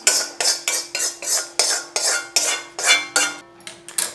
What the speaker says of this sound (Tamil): இந்த எலுமிச்சம்பழத்தை இதில் போட்டுறோம்